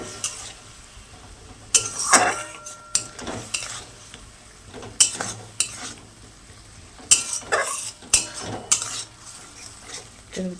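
Paneer biryani masala being sautéed in a pan, with a spatula scraping and clinking against the metal in irregular bursts over a soft sizzle, fairly close and moderately loud, with no voices.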